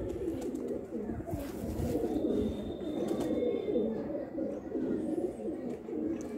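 Male red-and-brown Lal Cheena pigeon cooing up close: low, throaty, rolling coos repeat continuously, with faint background bird chirps and ambient noise.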